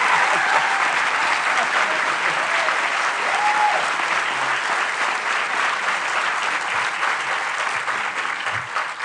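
A large audience applauds steadily and loudly to welcome a speaker at a morning talk in Austin, a dense wash of clapping that holds evenly throughout.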